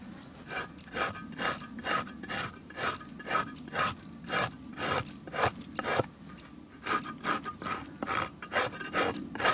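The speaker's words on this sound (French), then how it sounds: "Donc avec la truelle je gratte." A trowel scraping wax and propolis residue from the bottom of a melted beeswax block, a steady rhythm of rasping strokes, roughly two per second, close and continuous with no voices.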